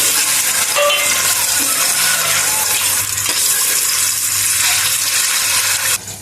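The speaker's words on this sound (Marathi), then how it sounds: "आता आपण हे अंडे हलके फ्राय करून घेऊया कुकर तेल गरम झालेलं आहे आपण फ्राय करून घेऊया" Eggs shallow-frying in hot oil inside a pressure cooker give a steady, loud sizzle with crackling and scraping of stirring throughout, continuing unbroken for several seconds without talk.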